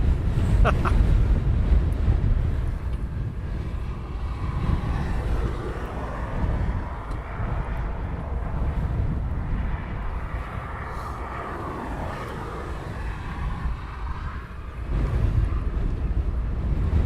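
Eurofighter Typhoon jets roar overhead at RAF Coningsby during a NATO exercise, a broad rumbling engine wash that swells, fades slightly mid-pass and builds again, with wind buffeting the microphone.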